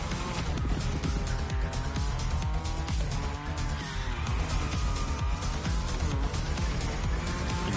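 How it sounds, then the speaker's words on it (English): A car in The Crew Motorfest drifting with nitrous, its engine roaring loudly while tires squeal in long wavering streaks over continuous game music. "You can kind of use nitrous to extend your drift, which is cool."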